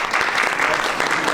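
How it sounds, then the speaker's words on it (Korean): Audience applauding to welcome a speaker at a community garden talk show, a steady dense patter of clapping from a modest crowd throughout, no voices on top. "박수로 맞아주세요."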